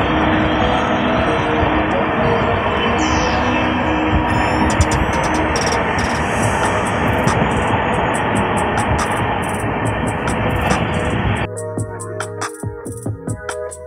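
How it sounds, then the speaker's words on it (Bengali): A train runs past station platforms at night on the way to Bhubaneswar, a loud continuous rumble and rattle of rolling wagons heard from aboard, with the sound changing sharply near the end. "রাতের অন্ধকারে আমাদের ট্রেন যখন প্ল্যাটফর্মগুলোকে ক্রস করছিল"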